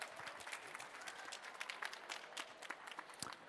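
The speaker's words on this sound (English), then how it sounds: "So please, round of applause to Becca as she comes on up." Audience applause for Becca of Russell Hobbs at a brand challenge event, a fairly quiet, steady patter of many hands clapping with scattered sharper claps, heard from a distance.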